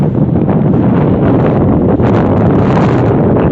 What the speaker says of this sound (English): so windy today, guys